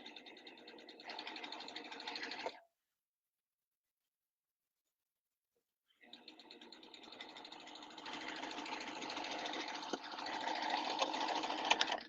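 A sewing machine fitted with a plain hemmer foot stitches fabric in a close, steady whirring run that stops dead for a few seconds, then starts again and runs longer, growing slightly louder toward the end.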